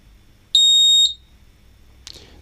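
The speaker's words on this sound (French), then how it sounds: "Donc là, est-ce qu'il y a eu un bip? Oui." An Aqara smoke detector runs its self-test and gives one loud, piercing electronic beep lasting about half a second, close by in a quiet room, followed by a faint brief click.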